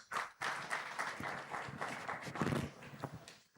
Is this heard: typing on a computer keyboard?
no